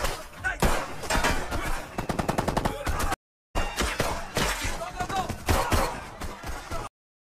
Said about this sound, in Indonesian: Akibat dari baku tembak tersebut